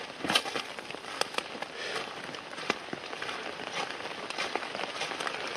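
Steady rain falls through a forest in a video game, a continuous soft hiss scattered with sharp droplet patters and crackles, with no voices.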